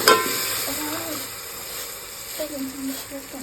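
Water goes into a hot pan while cooking Gujarati khichdi, raising a burst of sizzling that settles into a steady hiss as a person talks nearby.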